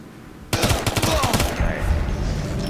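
Gunfire from Ghost Recon Future Soldier kicks in suddenly after a brief quiet. Loud, rapid automatic bursts follow one another in quick succession, close and punchy, then fade into a lingering rumble.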